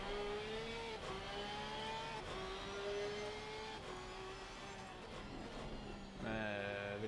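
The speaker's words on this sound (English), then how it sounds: "I just hear you revving." A race car engine in Assetto Corsa Competizione on the Suzuka circuit, revving and shifting with rising and falling pitch, heard faint and distant for several seconds.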